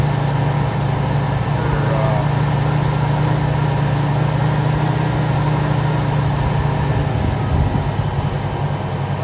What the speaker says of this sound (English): the main thing we want to do is get it to idle for you. It's got really old gas in it, but she runs great.